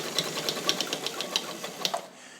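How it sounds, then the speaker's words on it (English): A vintage Universal zigzag sewing machine made in Japan runs a long, wide zigzag stitch, its needle tapping in a quick, steady rhythm before stopping, close and moderately loud. "And I'm going to go long so you can see the zigzag."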